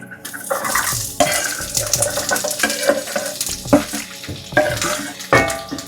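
Oxtail substitute meat frying in olive oil in a pan, with loud close sizzling and repeated scraping and clattering of a utensil against the pan, irregular bursts with no talk.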